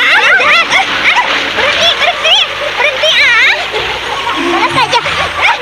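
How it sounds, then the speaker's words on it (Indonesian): Water splashes and sloshes in a river as children splash one another's faces, with excited voices shouting and chattering over the splashing throughout. "Mereka saling menciprati air ke wajah mereka."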